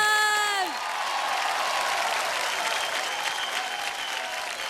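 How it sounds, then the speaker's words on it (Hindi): A TV singing talent show audience breaks into loud, sustained applause mixed with some crowd noise, rising just as a short musical tone fades out at the start. "एक बार अथर्व के लिए जोरदार तालियां"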